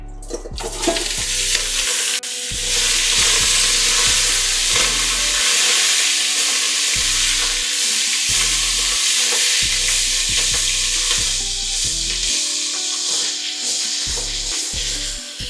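Vegetables hit a hot pan after short ribs were seared there, a loud, dense sizzle that hisses continuously while a utensil stirs and scrapes in a steady rhythm.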